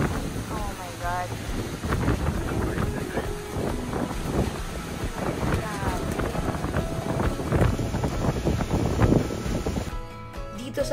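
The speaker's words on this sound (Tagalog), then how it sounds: "dito na talaga namin na-experience yung pinakamalakas na hangin." Strong wind buffets the microphone in a constant roar during a long-distance cycling ride in Dasol, Philippines, with voices faintly underneath and some motor-like rumble.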